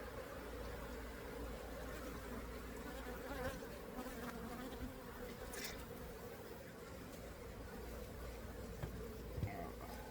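Bees buzz steadily and densely around a hive infested with small hive beetles, a continuous close swarm drone with no speech.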